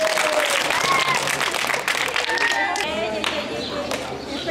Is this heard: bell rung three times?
no